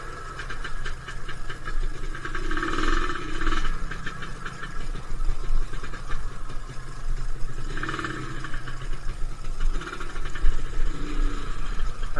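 A Suzuki Satria two-stroke motorcycle engine idles with a continuous buzzing, rattly drone, steady and fairly close, with slight rises in revs at intervals.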